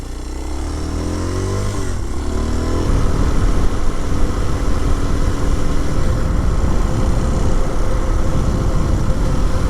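A Kawasaki KLX230SE dual-sport motorcycle rides from dirt onto paved back roads. Its engine drones loud and steady, shifting pitch early on before settling into a continuous running note with no talking.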